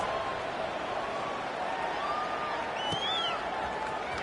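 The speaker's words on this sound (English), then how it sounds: "this crowd is buzzing after that last score" A stadium crowd buzzing after a score in the football game NCAA 26, a steady, dense roar of many voices with faint cheers, continuous and fairly loud throughout.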